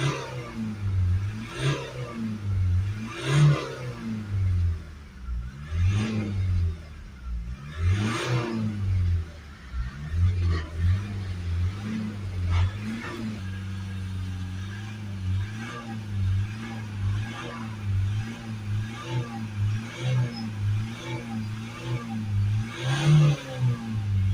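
A Ford Transit Custom's 2.0 EcoBlue diesel engine, with a particulate filter efficiency fault, revs up and down repeatedly, rising and falling in pitch, then settles into a rougher, uneven running drone.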